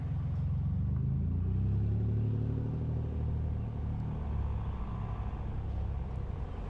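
A car goes by on a small-town street in Geneva, Ohio, heard from inside a moving vehicle as a steady low road rumble that swells slightly around the passing moment.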